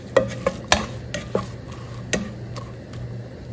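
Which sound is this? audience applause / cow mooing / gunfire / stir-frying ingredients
stir-frying ingredients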